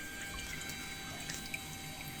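Water pouring out during an aquarium water change, a faint steady trickle with scattered drips, no one talking.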